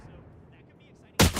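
A single sharp, loud gunshot in Valorant, sounding abruptly near the end after quiet background chatter and game ambience.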